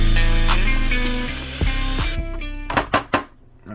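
A power drill bores out an aluminum RC boat rudder, its loud, steady motor whine winding down in pitch, then a few sharp knocks and short bursts close by.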